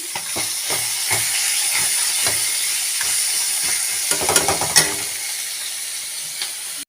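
Fish sizzles and spits in hot oil, a constant frying hiss broken by scattered pops and a few scraping stirs near the end.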